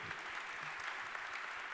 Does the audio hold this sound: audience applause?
yes